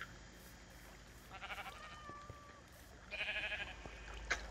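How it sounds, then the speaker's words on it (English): Sheep in the Minecraft video game bleat faintly in a few short wavering calls, one around the middle and a clearer pair near the end, over a low steady background hum. "Rainbow sheep."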